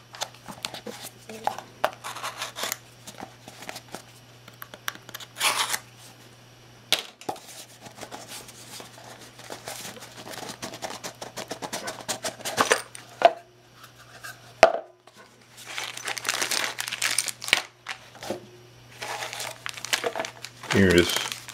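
Package box being cut open, close crinkling and rustling of plastic and cardboard in irregular bursts with scrapes and small knocks, and a voice speaking between the sounds.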